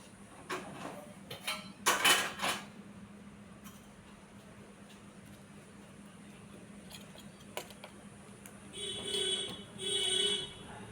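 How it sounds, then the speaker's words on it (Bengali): A cooking pot lid is lifted with a short metallic clatter. Scattered faint clinks follow over a quiet background, and a pair of brief tonal beeps sounds near the end. "এই ঢাকনা খুলে দেখাচ্ছি আমি কীরকম হয়েছে"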